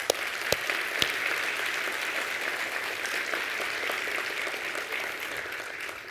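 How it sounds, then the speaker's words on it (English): A conference audience applauds in thanks to Valve, whose VR team is being recognised. The clapping is dense and sustained, moderately loud, with a few sharp individual claps standing out near the start. "So let's give them a round of applause."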